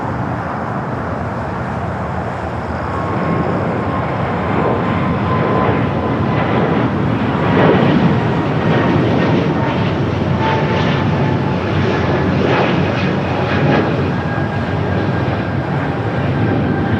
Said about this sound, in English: Alright, the flight to Pittsburgh, taking off,